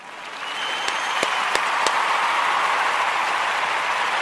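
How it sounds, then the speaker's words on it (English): A crowd claps and applauds steadily for a group of children at a live community show, a dense even patter with a few sharper claps near the start and no voices over it. "applause."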